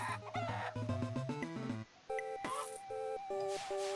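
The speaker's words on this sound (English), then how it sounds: "Yeah, I just killed a chicken there." Chicken clucking from The Legend of Evil video game, a quick run of loud clucks and squawks in rapid succession, then a short gap followed by brighter bleeping game tones, with no talking.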